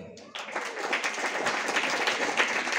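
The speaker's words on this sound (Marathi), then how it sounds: "त्या महिला वर्गासाठी जोरदार टाळ्या वाजवा" Audience applause at a Marathi devotional performance breaks out after a brief quiet start and then holds as steady, moderately loud clapping to the end.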